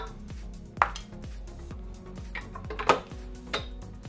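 Homemade pizza dough being mixed in a bowl: a spoon clinks and scrapes against the bowl in quick, steady, repeated strokes, close and clear, with a faint tonal background and no talk.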